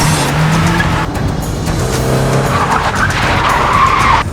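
A car skids hard during a movie car chase, with a loud, sustained tire squeal over a roaring engine throughout, close and with no voices.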